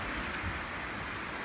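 Heavy rain pours steadily during a night thunderstorm at a farm barn, a dense, constant broadband hiss close by with no distinct thunder crack, no voices and no other sounds standing out.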